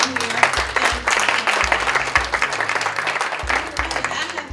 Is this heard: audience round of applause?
yes